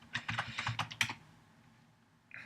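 A layer name is typed on a computer keyboard: a quick, close run of crisp keystrokes for about a second, then quiet.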